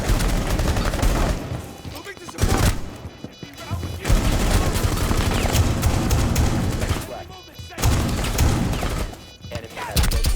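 Rapid bursts of pistol and automatic gunfire from a shooter video game played on PC, dense and loud through most of the stretch with brief lulls between volleys, and a voice talking over parts of it.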